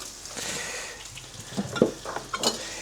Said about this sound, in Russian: в течение 5 минут будем жарить и время от времени помешивать